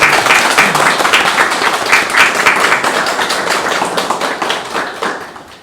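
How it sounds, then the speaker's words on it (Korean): A room full of conference attendees at an academic education society meeting claps for two organisers, a steady, close burst of applause that slowly fades toward the end. "우리 다 같이 두 분께 좀 박수를 한번 쳐주시면 좋겠습니다"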